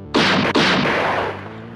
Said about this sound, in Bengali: গুলির শব্দ শোনা গেল